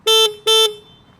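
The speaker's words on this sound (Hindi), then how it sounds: "horn I am telling you literally scooter का हॉर्न दिया इस गाड़ी में" A Triumph Tiger 1200 Rally Explorer motorcycle horn sounds two short, loud, thin beeps in quick succession, close by and alone.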